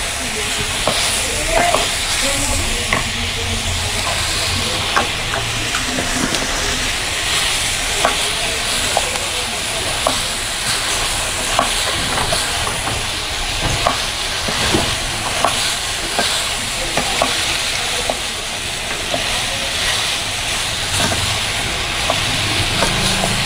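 Half a kilo of chopped ridge gourd cooks with a little water in a pan in a Punjabi village kitchen, giving a constant close sizzle broken by frequent small scraping and clinking stirs, with no talk.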